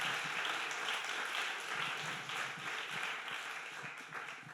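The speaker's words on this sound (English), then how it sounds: "A warm applause for them." An audience at a graphic design talk in Turin claps warmly for guests invited onto the stage, a moderate, even patter of applause heard from within the room.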